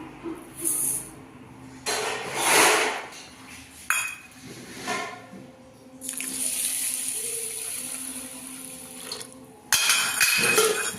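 Two bowls of rice are washed in water for dosa batter in a home kitchen, giving intermittent splashing and swishing, running water, and occasional clinks of a bowl, close and moderately loud.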